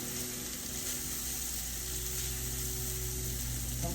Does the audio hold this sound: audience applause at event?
no